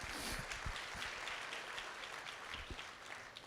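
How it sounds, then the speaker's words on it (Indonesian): Congregation applauding in a church service, a steady wash of clapping from many hands filling the space, fairly even in level throughout with no talk over it. "Berikan tepuk tangan kita untuk Tuhan kita."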